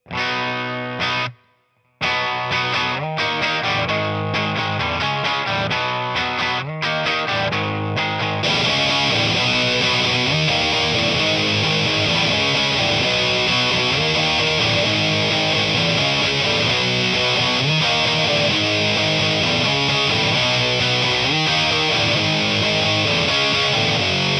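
A heavily distorted signature model electric guitar plays loud, thick chords continuously, with a brief pause near the start before the riff drives on.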